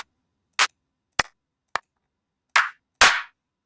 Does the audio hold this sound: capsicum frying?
no